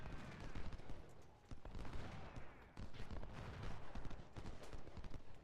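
Skirmisher musket fire in the Ultimate General: Civil War video game crackles as a steady, irregular peppering of shots over a thick battlefield rumble, continuous and moderately distant.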